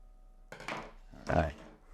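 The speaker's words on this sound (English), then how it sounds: "So I've got my little apple slicer here." An apple slicer pressed down through a whole apple, two short crunchy cuts with a firm thud against the board, close and clear in a quiet kitchen.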